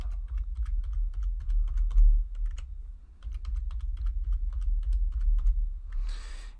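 Rapid, steady tapping on a computer keyboard while a MetaMask password is entered, close and clear over a low hum, with a brief pause midway and a soft hiss at the end.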